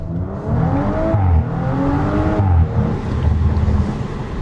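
An Audi RS5 pulls hard along a scenic road, its engine note rising through two or three gear pulls with brief dips between, loud and close from inside the car.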